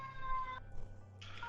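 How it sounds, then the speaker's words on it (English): Emergency sirens in a city during a shooter game stream, a wailing tone cutting off and resuming over a low steady hum, moderately faint. "Sorry about the sirens."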